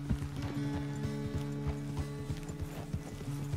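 A horse in Red Dead Redemption 2 walks along, its hooves striking in a steady clip-clop rhythm, close and moderately loud over a low sustained hum, with no talking.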